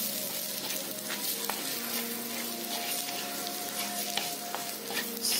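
Spices, chili powders and misal masala sauté in a hot pan with a steady, close frying sizzle, punctuated by occasional spoon scrapes and stirs, with no talking.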